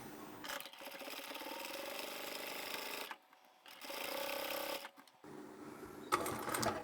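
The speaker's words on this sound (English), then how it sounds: "I'm going to sew right across" A domestic sewing machine stitches across the lining pieces of a crossbody satchel bag in several loud, close bursts, pausing briefly between runs and backstitching near the end.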